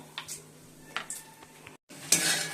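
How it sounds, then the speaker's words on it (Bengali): Spices being stirred and fried in a kadai with bay leaf and cumin, giving soft scraping strokes and a light sizzle, close and fairly quiet, with a brief drop to silence before a louder burst of frying. "এইগুলো মশলাটা ভালো করে কষিয়ে নিচ্ছি"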